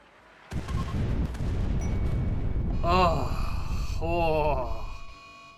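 Heavy booming explosions from nuclear bombs dropped on a tribe in the video game RimWorld, a sustained loud rumbling roar lasting several seconds, with a voice talking excitedly over it.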